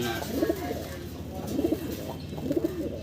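A pair of yellow short-face pigeons, a male and female breeding pair, coo in three soft, evenly spaced bursts at close range over a low background hum.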